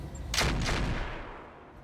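A Battlemaster mech in the RogueTech video game fires on a Sniper Cannon turret: one broad, booming shot followed by a second blast, then a rumbling tail that slowly fades, with no talking.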